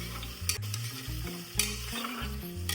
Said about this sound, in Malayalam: കുക്കറിലായതുകൊണ്ട് പെട്ടെന്ന് വഴണ്ടി കിട്ടുവേ